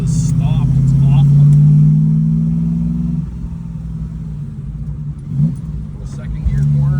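Car powering out of a second-gear corner on a track, engine note rising in a sustained pull, then dropping at a shift into a steadier drone with brief bursts, close and loud under intermittent speech.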